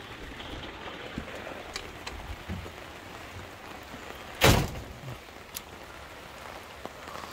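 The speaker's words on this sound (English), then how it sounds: "it dawned on me that I should get some outtakes of the rain" Steady light rain patters outside a shipping container, a soft continuous hiss with scattered drips and one brief louder thunk midway.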